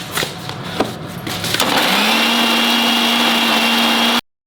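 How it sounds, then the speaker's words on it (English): A mixer grinder churns red masala paste for Goan dry bombil recheado, starting after a few faint clinks and rising into a loud, steady motor whine that runs for a couple of seconds before cutting off abruptly. "Come, I'll go and grind the masala."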